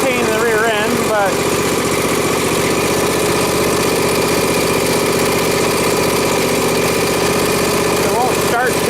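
A John Deere 2032R compact tractor engine runs steadily at a close, loud idle with a rough low drone, while a voice speaks briefly near the start and end.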